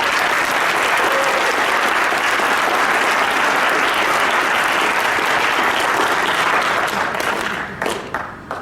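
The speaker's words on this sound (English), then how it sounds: "let's give one more round of applause for Dr. Price" At the Skeptics of Oz 2013 gathering, an audience gives sustained, loud applause for Dr. Robert M. Price, a dense roar of clapping that carries for several seconds before thinning into scattered claps at the end.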